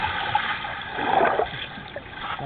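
A person jumping into a swimming pool, with a watery splash and churning swell around the middle, set against continuous muffled underwater-style wash.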